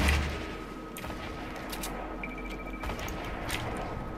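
Gunfire in the video game Fortnite, a burst of rapid sharp shots followed by scattered single cracks over a few seconds, fairly close and loud against a low background hum.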